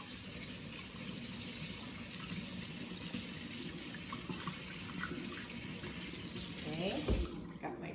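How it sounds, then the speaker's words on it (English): Sink tap running steadily as a paintbrush is rinsed under the stream, a constant close gush of water that cuts off abruptly near the end. "I'm going to come over to my sink and I'm going to wash my brush"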